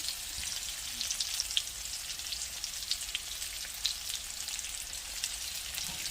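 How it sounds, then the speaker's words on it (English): Ground meat goes into a pot of frying potatoes with jalapeños, giving a steady, close sizzle with faint crackles and occasional stirring scrapes, no talking. "I'm going to be putting the rest of the meat in"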